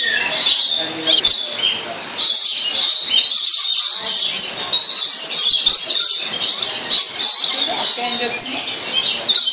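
Many birds at a zoo chirp and squawk continuously in a dense, busy chorus, with occasional voices mixed in underneath.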